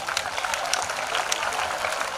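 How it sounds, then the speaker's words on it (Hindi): Brief burst of applause from a school crowd at an Independence Day celebration, steady clapping throughout with no voices over it. "तो जोरदार तालियों से उसका स्वागत कीजिए"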